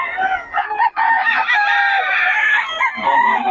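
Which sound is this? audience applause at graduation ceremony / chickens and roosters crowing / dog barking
chickens and roosters crowing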